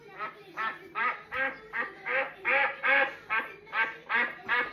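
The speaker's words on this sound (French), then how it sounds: "Voici un son de canard." Duck quacks played from an Alexa smart speaker, a steady run of about eleven loud, evenly spaced quacks with no talking over them.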